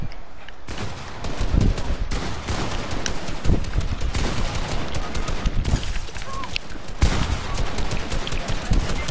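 Dense, continuous rattle of video game gunshots and explosive bursts fills the scene, loud and sustained with brief lulls, a voice briefly heard beneath the din.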